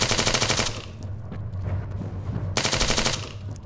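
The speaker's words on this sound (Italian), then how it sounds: "Emily, non vedi che sto sparando come" Rapid machine-gun bursts from the Arma 3 video game, a loud sustained volley at the start, a quieter stretch of lower rumbling, then another dense burst near the end.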